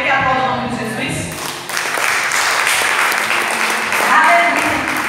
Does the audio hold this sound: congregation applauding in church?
yes